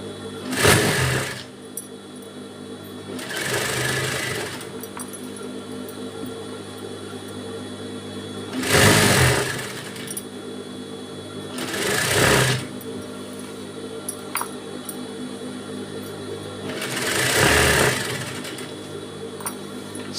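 A sewing machine stitches along the pleat of a saree in several separate bursts of a few seconds each, a close buzzing whir that stops between runs while the cloth is adjusted, with a steady background hum.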